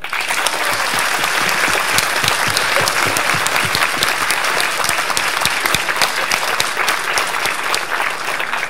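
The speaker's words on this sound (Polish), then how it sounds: "Brawa dla nich!" An audience applauds young dancers at a jubilee celebration, producing dense, steady clapping that stays loud and even from start to finish, with no voices rising above it.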